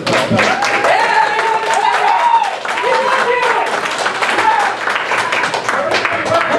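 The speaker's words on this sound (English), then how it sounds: "Give the defender a round of applause." A convention panel audience applauds with steady clapping and cheering while people talk and laugh over it.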